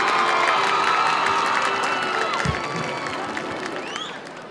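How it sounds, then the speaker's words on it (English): A crowd at a homecoming high school football game cheers and applauds loudly, with whoops and shouts over dense clapping that slowly fades a little toward the end. "Let's give a warm round of applause for Aurelie Victoria Cruz."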